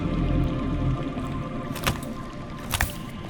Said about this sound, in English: That's water. I hear water. From underground.